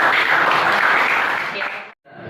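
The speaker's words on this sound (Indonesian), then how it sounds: "Kasih tepuk tangan dulu" Junior high school students in a classroom applauding, a dense steady wash of clapping that carries on for about two seconds, then cuts off abruptly before resuming.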